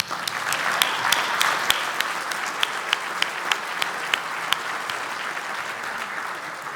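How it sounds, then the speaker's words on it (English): Applause at a chamber of commerce annual dinner, steady crowd clapping with several sharp, close individual claps standing out in a rough rhythm, fading slightly toward the end. "Let's give them a round of applause."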